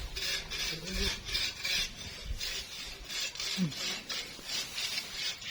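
A saw rasps back and forth through a tree in steady rhythmic strokes, moderately loud and close, with no talking.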